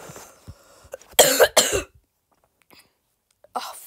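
A cartoon character in an animated object show coughs in a few harsh, throaty bursts, close and loud, then goes quiet before a brief further sound.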